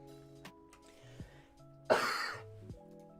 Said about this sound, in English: Sorry about the cough, guys.